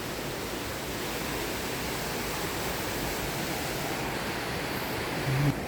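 A river's rushing water flows steadily in Saalbach, Salzburg, Austria, a dense continuous roar close by with no pauses.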